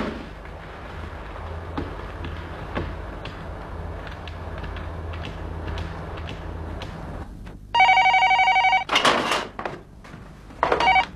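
An old-style telephone bell rings in a 1990s Chinese crime drama set in a police office, with sharp bursts of loud electric ringing that break a quiet room tone.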